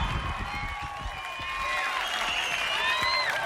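A dense crowd applauds steadily at a televised evening show at Euro Disney, the clapping sustained throughout with whistles and cheers rising over it.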